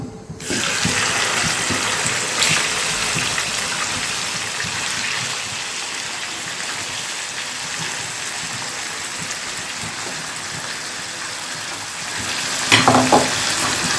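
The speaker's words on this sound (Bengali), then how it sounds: "চিকেনটা অ্যাড করে নিয়ে তেলের সাথে ভালোভাবে মিশিয়ে নেবো একটু ভাজা ভাজা করে নিতে" Large chicken pieces fry in hot oil in a pot for korma, a loud steady sizzle that runs nearly the whole time, with stirring and a clatter near the end.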